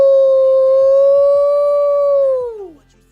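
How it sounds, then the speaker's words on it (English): A loud, sustained canine howl played as a stream sound effect holds one long steady tone for over two seconds, then bends downward and fades out. "Howling Redeem. Another one."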